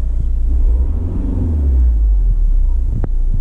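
An Audi TDI diesel engine revs up with a deep, loud rumble that swells and settles over a few seconds, recorded close by with some wind buffeting.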